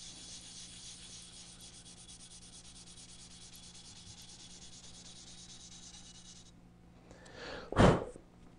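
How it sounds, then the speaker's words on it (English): Steady, soft rubbing and scraping strokes of fine sandpaper on a clarinet reed, repeated evenly by hand, ending with a brief louder rasp. "So I'll do my sanding pattern and then check where we're at."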